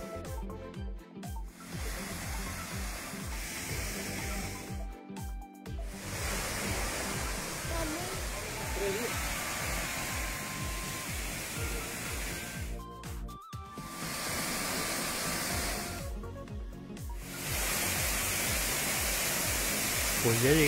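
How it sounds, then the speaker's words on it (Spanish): Roar of the El Salto waterfall at Santa María Asunción in Ometepec, Mexico, a steady broadband rush of falling water that fills the whole clip, with a few brief dips and someone talking over it at times. "qué maravilloso es ver la cascada en vivo"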